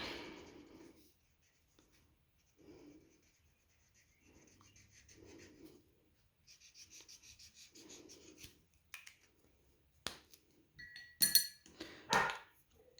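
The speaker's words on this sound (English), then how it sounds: "That's my dog. She's barking to be let in." A dog barks a few times to be let in, in short, muffled bursts at a distance, interspersed with quiet scratching and rubbing noises close by.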